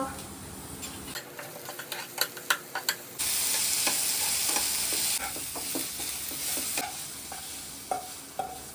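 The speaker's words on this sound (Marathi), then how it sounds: "कांदा लालसर भाजून घ्यायचा" Chopped onions frying in a pan for an omelette in a home kitchen: a spatula knocks and scrapes several times, then a loud steady sizzle swells in bursts, with intermittent stirring taps over the frying.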